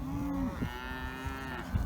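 Cattle on a farm, a herd of bulls including a two-year-old bull along with calves, moo in drawn-out, low calls, one long bellow up close followed by softer, overlapping lows, with no talking.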